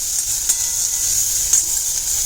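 Onion sautés with a little salt in a heavy-bottomed steel pot, giving a steady, bright sizzle close by, with two faint stirring taps along the way.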